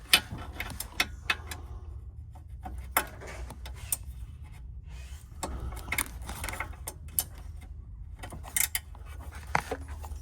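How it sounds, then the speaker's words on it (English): A gear wrench ratcheting on a Club Car golf cart during an oil change, close and irregular bursts of sharp metallic clicks and rattles, separated by short pauses and scraping handling noises. "Now, I have a gear wrench, so it makes it kind of easy."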